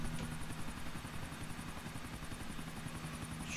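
A helicopter's rotor chop and engine drone from the video game GTA IV, a steady, fairly loud whirring pulse that holds unbroken throughout with no voices over it.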